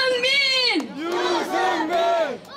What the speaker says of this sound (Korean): 여러분 다시 한번 유승민을 외쳐주십시오